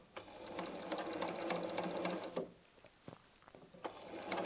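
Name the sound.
sewing machine stitching patchwork fabric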